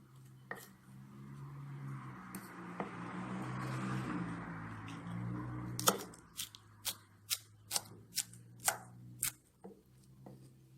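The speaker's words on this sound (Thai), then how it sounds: "เมื่อเอาเม็ดออกแล้วหั่นตามยาวเลยค่ะ" A knife slices deseeded chili peppers lengthwise on a cutting board in about nine quick, evenly spaced cuts, close and crisp, after a quiet stretch of faint handling noise.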